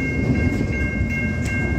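An Australian freight train hauling intermodal containers rumbles past close by, a loud, continuous low roar of wagons with faint rhythmic clatter and a steady metallic whine, no voices.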